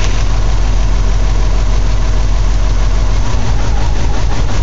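A WRX-swapped Subaru GC8 idles loudly and close up with a steady low engine rumble, stumbling slightly as the headlights switch on, with no talking.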